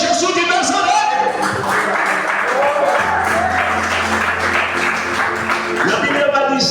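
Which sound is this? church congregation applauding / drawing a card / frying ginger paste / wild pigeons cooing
church congregation applauding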